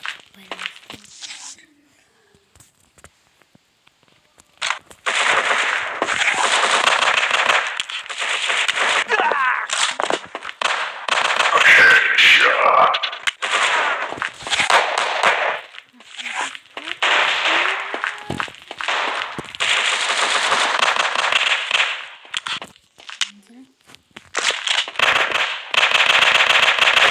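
Rapid bursts of gunfire in a shooter video game, the shots crackling in dense clusters with short gaps, loud and close, over a long stretch with occasional quiet pauses.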